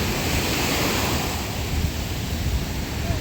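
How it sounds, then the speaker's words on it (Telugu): Ocean waves break and wash steadily onto the shore at RK Beach in Visakhapatnam, a loud, continuous roar of surf with a windy rush and no voices. "అలలు వస్తున్నాయి."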